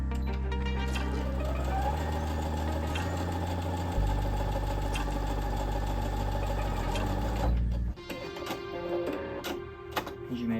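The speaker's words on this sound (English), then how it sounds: "it handles our cotton fabric, a quilting cotton, on a regular straight stitch" A Baby Lock Presto II sewing machine runs a regular straight stitch through single-ply quilting cotton, a fast, even mechanical whirring that shifts speed partway and ends in a clatter as it stops.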